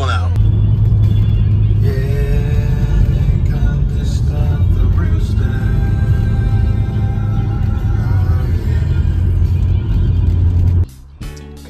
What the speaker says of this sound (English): Car's turned on.